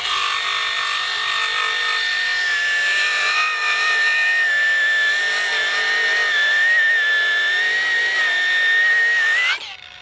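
A Makita 40V XGT brushless 5-inch variable speed paddle switch angle grinder runs under heavy pressure with a steady, high whine that holds its pitch for about nine seconds, then cuts off abruptly near the end.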